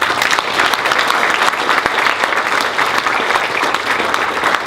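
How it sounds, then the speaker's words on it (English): A room full of people at a closing panel talk applauds the panellists in a dense, even burst of clapping that stays strong throughout. "Can we have a round of applause for the panellists,"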